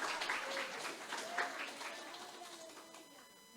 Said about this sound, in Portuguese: dê um grito de aleluia, e aplauda ao Senhor de todo o seu coração